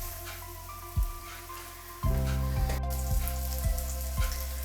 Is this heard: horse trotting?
no